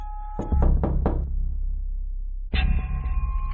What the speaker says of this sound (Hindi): घर के अंदर से कोई भी दरवाजा नहीं खोलता, इसलिए गुल्ली एक बार फिर से दरवाजा खटखटाता है।